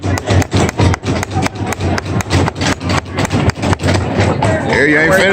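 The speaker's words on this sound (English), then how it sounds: "All you gotta do is hit the hammer as hard as you can." A child hammers nails into a small wooden bird house, with a rapid run of sharp, evenly spaced knocks close by that then thin out under adult talk.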